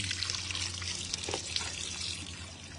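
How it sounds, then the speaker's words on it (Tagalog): Water running in a garden fountain, a steady close splashing and trickling wash with no voices. "The water is running. And then, that is the fountain."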